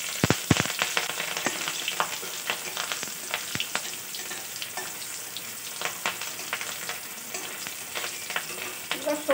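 Green chilies fry in hot oil alongside bay leaf, whole cumin and dried red chilies, a close, continuous sizzle with dense sharp crackles and spits throughout.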